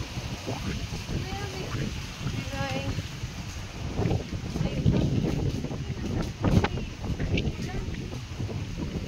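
Gusty wind buffets the microphone in rough, rumbling bursts, with people talking underneath and a few louder gusts toward the middle.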